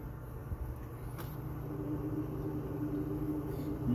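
A pop vending machine's refrigeration compressor runs with a low, steady hum and a faint rumble, quiet and continuous with a few light clicks, and no talk.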